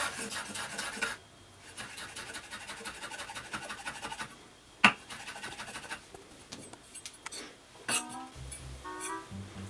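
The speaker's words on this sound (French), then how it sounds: "et ensuite avec votre couteau que vous aurez bien sûr lavé après avoir coupé l'oignon, et sans couper vos doigts, vous venez comme ça la hacher" A kitchen knife chops fresh herbs on a cutting board in quick, dense, repeated strokes, close and fairly quiet, followed by scattered scraping and a few louder knocks.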